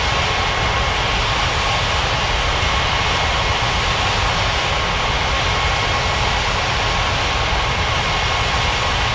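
Airliner jet engines spool up and roar steadily through a takeoff roll at a busy tropical international airport in an air traffic control video game, a loud, continuous broadband rumble with no breaks.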